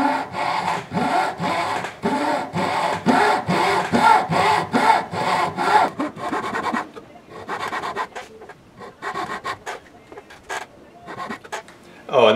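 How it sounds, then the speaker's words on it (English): Hand saw cutting a lip slot into a wooden baby alligator fishing lure, with steady rhythmic rasping strokes close by, then slower, sparser strokes and pauses toward the end. "I'm gonna cut a lip slot into it, and this is gonna be a two-piece lipped baby alligator bait"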